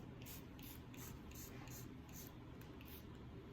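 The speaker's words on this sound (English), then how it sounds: "So I'm just gonna spray this in." Several quick, close bursts of detangling primer sprayed onto hair from a pump bottle in a steady rhythm, over a low background hum.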